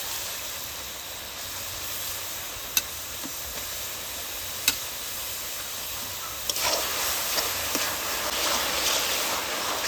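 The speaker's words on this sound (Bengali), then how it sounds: "সেদ্ধ করে রাখা পেঁপেগুলো দিয়ে দিচ্ছি" Boiled raw papaya tipped into hot caramel in a pan, giving a steady close hiss and sizzle with a few sharp clacks, the sizzle flaring louder near the end.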